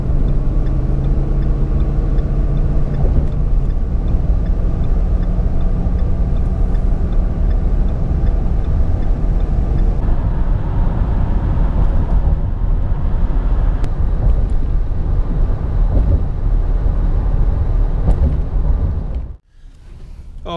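A truck towing a trailer loaded with Caterpillar D2 spare parts pulls away from a gas station, its engine a steady, loud, continuous rumble that carries on without pause before dropping off abruptly at the very end.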